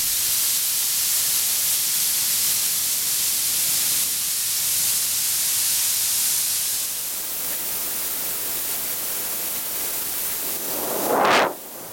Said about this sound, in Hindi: कुकर में से गैस को खारिज कर देंगे।